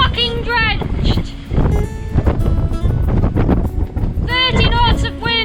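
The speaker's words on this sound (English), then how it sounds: "30 knots of wind out of nowhere!" Strong wind of around 30 knots buffets a sailboat sailing off the Canary Islands, a loud roaring rush against the microphone under excited shouting voices.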